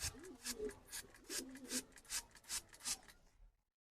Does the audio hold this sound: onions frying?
no